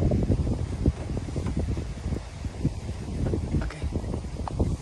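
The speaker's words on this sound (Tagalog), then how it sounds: "Lakas ng hangin." Strong wind blowing across open farm fields in the early morning, a steady rushing roar buffeting the microphone with uneven gusts and low rumbling, continuous throughout and without any talking.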